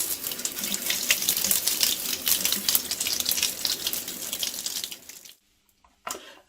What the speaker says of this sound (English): it's always a good idea just to give these a bit of a wash off to start with